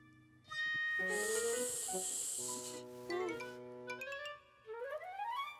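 A voice imitates a snake's hiss in a children's cartoon, a sustained breathy hiss that swells loud for about two seconds, set among cheerful music and singing.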